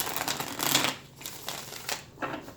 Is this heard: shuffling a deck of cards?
yes